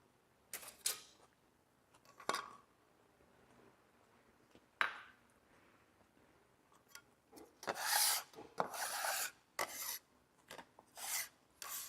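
A dough scraper scrapes across dough in a cooking show kitchen, giving repeated short raspy scraping strokes, several in quick succession near the end, close and fairly loud.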